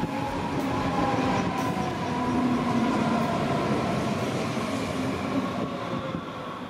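An S5 S-Bahn train rumbles steadily along the rails toward Bad Homburg station in Germany, with a low mechanical drone and faint squeals, moving at a constant pace without any voices.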